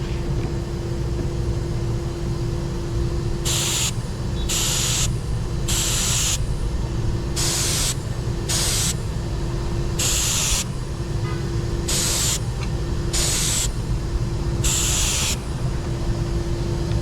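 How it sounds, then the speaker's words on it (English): Spray gun spot painting with Awlcraft 2000 paint, a series of about ten short hissing bursts of varying length over a steady background hum, close and moderately loud. "Basically we spot painting and we will buff that tomorrow and should be pretty good"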